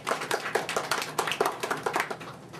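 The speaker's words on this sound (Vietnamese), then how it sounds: "xin quý vị cho anh tràng pháo tay." A temple celebration crowd gives a short burst of applause for a guest, many hands clapping in a quick, uneven patter, fairly close and steady before tapering off.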